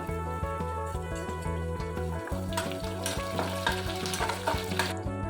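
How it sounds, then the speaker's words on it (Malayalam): Garlic, ginger and slit green chillies frying in oil for a bilimbi pickle, giving a loud close sizzle that swells midway as more goes in, with a tonal hum beneath and quick spoon scrapes throughout. "നീളത്തിൽ അരിഞ്ഞു വെച്ചിരുന്ന പൂണ്ടും ഇഞ്ചി കൂടി ഇട്ട് കൊടുക്കാം ചെറുതായിട്ടൊന്ന് മൂത്ത് കഴിയുമ്പോൾ കീറി വെച്ചിരിക്കുന്ന മുളക് കൂടെ ചേർത്ത് കൊടുക്കാം"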